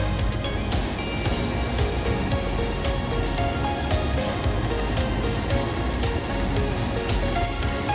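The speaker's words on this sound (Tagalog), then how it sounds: "ipiprito na natin yan" Steady dense crackling and sizzling of egg tofu frying in a hot pan, continuous and close with no pauses or talk.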